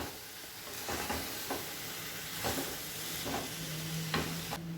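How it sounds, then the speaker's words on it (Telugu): Coconut laddu mixture frying in a pan over a low flame, with a steady soft sizzle and occasional scraping stirs, close and alone with no talk. "స్టవ్ సిమ్లో పెట్టుకొని వేయించుకోండి"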